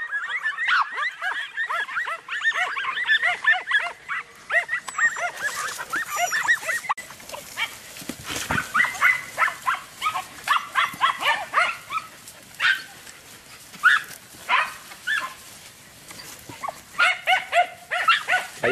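Andalusian podenco hunting dogs bark and yelp excitedly in the open countryside while chasing a rabbit, rapid overlapping bursts near and far, some high excited yips, no talking.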